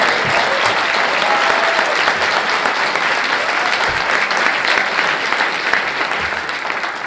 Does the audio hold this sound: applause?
yes